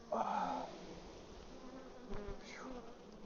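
Honey bees working an open hive frame with capped honey, a close, steady insect buzz with a louder burst of nearby wings early on, continuous throughout.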